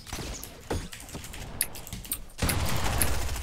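Rapid bursts of gunfire in a Fortnite match, one volley partway through and then a longer, louder spray that fills the final second, close and sharp with no talk over it.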